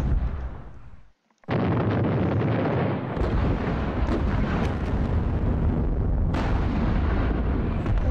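An 88 gun firing in the World War II video game Battles of Normandy: a heavy roaring blast after a brief silence, sustained as a dense rumbling explosion with a second surge near the end.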